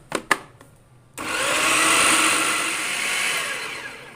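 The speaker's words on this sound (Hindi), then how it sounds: "फिर से चॉपर को एक बार चला दूँगी।" An electric food chopper whirs loudly and steadily as it grinds chana dal, starting after a couple of brief clicks and holding a dense, high whine for about three seconds.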